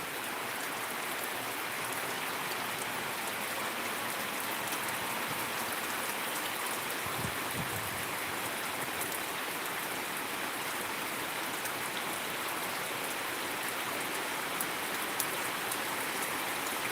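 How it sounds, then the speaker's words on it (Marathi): Steady rainfall pattering on surfaces in Solapur district, a constant even wash of sound throughout with no voices. "पुन्हा एकदा पावसाला सुरुवात झालेली आहे"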